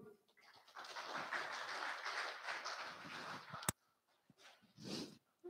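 Audience members at a Nyepi-themed talk clap together in a dense burst lasting about three seconds, ending abruptly in a sharp click, followed by quiet with a brief faint voice.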